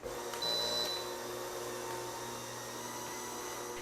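A Bissell Spinwave floor cleaner runs with a steady, fairly quiet motor whir and a faint high whine, continuous and alone with no talking.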